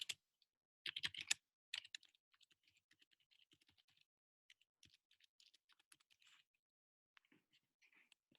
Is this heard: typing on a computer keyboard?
yes